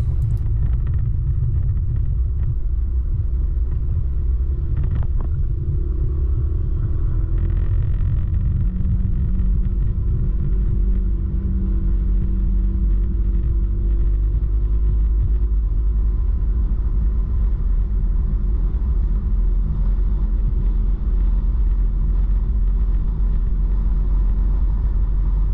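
A car travels a country road in Hesse, Germany, heard as a steady low engine and road rumble that continues through the whole stretch with no talking.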